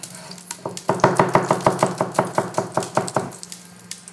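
A knife chops onions on a board in a quick, even run of about fifteen close, crisp knocks lasting around three seconds.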